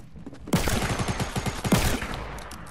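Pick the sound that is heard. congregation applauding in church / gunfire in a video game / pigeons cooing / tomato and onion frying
gunfire in a video game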